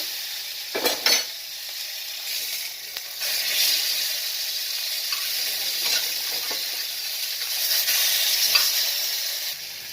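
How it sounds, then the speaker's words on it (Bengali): Pieces of bhetki fish fry in hot oil, a continuous bubbling sizzle with a few sharper crackles and spatters, close by and loud, with no talking. "চার পিস মাছ এটা আমি ভেজে নেব"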